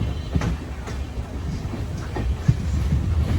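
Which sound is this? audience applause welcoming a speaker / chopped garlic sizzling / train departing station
train departing station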